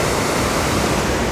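Water pouring over a dam that holds back a pond, a steady, loud broadband rush with no break and no voices.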